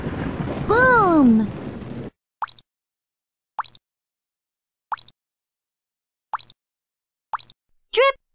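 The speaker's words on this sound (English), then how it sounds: "Drip, drop." Dripping water sound effect: a sliding bubbly plop opens, followed by a series of single, evenly spaced clean drips against silence, the last one a little fuller.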